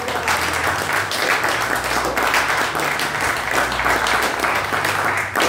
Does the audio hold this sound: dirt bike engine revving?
no